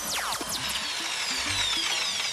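A power drill bores holes through a skateboard deck, a steady, close whine with rising and falling pitch sweeps as the bit bites and the motor speeds up, with no one talking.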